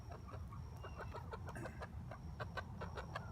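Hens cluck in short repeated bursts near a chicken coop, faint and low-level over a soft background hum, with no talk.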